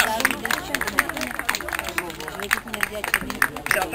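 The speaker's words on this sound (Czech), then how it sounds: "A velký potlesk, prosím, pro nadějné Benky různých ras." An audience claps at a regional outdoor dog show in Rokycany, steady, dense applause from a crowd with chatter mixed in, fairly near and continuous throughout.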